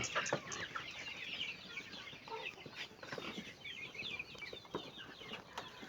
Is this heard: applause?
no